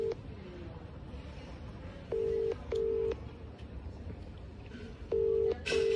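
A phone call to an uncle rings out during rain while stuck with a broken-down vehicle; steady repeated ringback tones sound in paired beeps over a hiss of rain and background noise, with no one answering yet.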